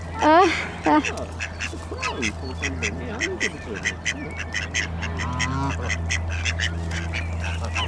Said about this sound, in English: That's the greylag goose army.